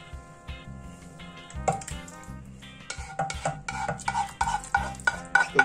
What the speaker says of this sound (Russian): Я даже вот так вот на сковородочку бульончика добавлю, я полосну сковородочку